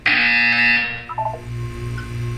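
A harsh, sustained buzzer from the video game Portal 2 blares loudly for about a second, then cuts off, leaving a low electronic hum and faint tones behind it.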